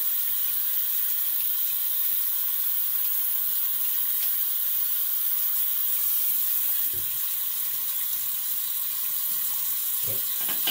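Cold rinse water running steadily from a tap into a sink during a wet shave, a continuous broadband hiss with a few small splashes, close and alone with no talking.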